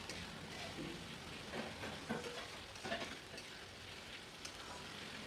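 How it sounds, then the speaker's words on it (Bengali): Ginger and garlic paste sautés in a pan, a soft continuous sizzle with scattered stirring scrapes and crackles, fairly quiet and close, with no talk. "আদা রসুনটাকে খুব ভালো করে কষিয়ে নিচ্ছি।"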